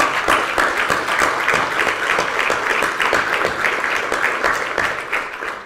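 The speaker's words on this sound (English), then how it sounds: "why don't you stand up and give them an applause?" Steady, dense applause from an audience at a police department promotions ceremony fills the room for about six seconds, loud and continuous with no voices rising above it.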